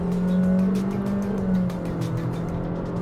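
Honda WR-V pulling hard in first gear, the engine's droning note climbing and holding loud and close throughout a short burst, with no voices over it.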